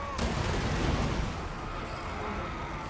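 Artillery fire from a fantasy battle in Total War: Warhammer 2, heard as a dense, continuous rumble of booms and crackling blasts at steady loudness, with no clear separate shots.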